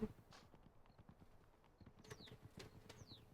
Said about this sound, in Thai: ม้าของเรานะคะ ก็จะวิ่งไปตามเส้นทางทางเดินปกตินี่แหละนะคะ